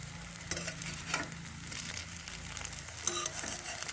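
Shrimp and lentil fritters fry in hot oil, a steady close sizzle with crackling bursts and light stirring scrapes throughout, with no voices.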